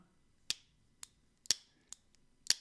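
Several sharp, snappy clicks of a Rockstead Ryo H-ZDP folding knife blade locking shut, five quick metallic snaps close up against a quiet background.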